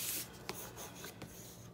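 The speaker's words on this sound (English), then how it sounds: "You can use your bone folder to make sure it's adhered down really well." A bone folder rubbing down tape on a handmade photo album for 4x6 photos, making quiet, close dry rubbing and scraping strokes in a few short passes.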